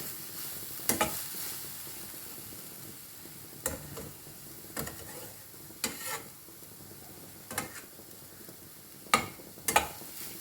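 Vegetables sautéed in a pan, only half cooked: a steady low sizzle broken by sharp, irregular bursts of stirring and scraping, close and moderately loud, with no talking.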